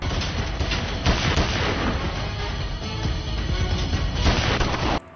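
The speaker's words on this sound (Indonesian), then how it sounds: "di mana aksi tembak-tembakan pun terjadi" Rapid, dense movie gunfire crackles continuously in bursts, loud and close, with booming shots layered through, stopping abruptly at the end.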